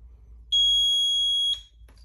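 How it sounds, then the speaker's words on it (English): A Notifier SFP-1024 fire alarm panel on battery backup sounds a loud, steady electronic tone for about a second, a piercing sustained beep that cuts off abruptly over a quiet background. "And now it's beeping again because of the battery backup."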